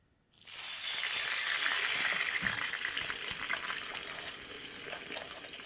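A sudden loud sizzle bursts up as water hits a hot pan while steaming pork belly buns, then hisses and crackles steadily, fading slightly over several seconds.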